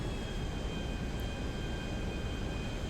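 A fixed-wing aircraft in GTA 5 flies past an oil rig, heard as a steady, droning engine roar with a faint whine. It holds at a constant level and no one speaks.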